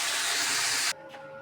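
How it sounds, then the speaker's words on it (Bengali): Potatoes fry in hilsa fish oil with a loud, bright sizzle for under a second before it cuts off sharply, leaving only faint clinks and quiet room noise. "এই যে মাছের তেল দিয়ে আলু ভাজা হচ্ছে"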